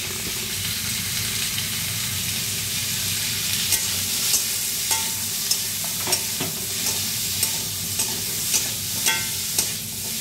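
Mango pickle mixture roasts in a pan, a steady dense sizzle running throughout with light periodic scrapes of a stirring spoon, close and unbroken by any voice.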